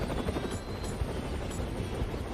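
A video game helicopter in Tiny Rails doing a tail spin, its rotor whirring and chopping steadily at moderate volume, a continuous buzzing drone with no one speaking.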